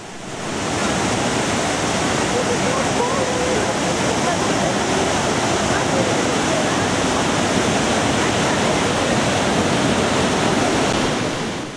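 The Iguaçu Falls on the Brazil–Argentina border roar in a loud, unbroken broadband rush of falling water that stays steady for the whole stretch.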